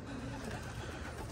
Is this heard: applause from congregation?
no